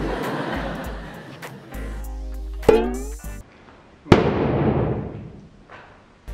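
A colourful balloon pops with a sharp bang, preceded by squeaky rubbing on the balloon and followed by a second loud burst, with children's voices around.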